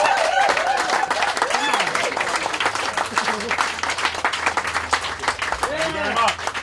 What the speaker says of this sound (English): So big round of applause for Tom.